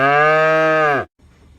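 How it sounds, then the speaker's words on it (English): A cow gives one long, loud, close moo lasting about a second, cutting off abruptly into quiet. "Cow."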